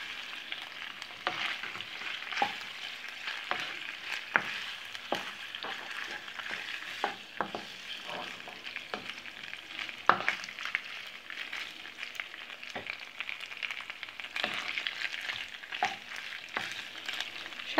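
Carbonara pasta stirred in a pan, a steady bright sizzle broken by frequent sharp scrapes and clicks of the utensil against the metal, close and continuous with no one talking.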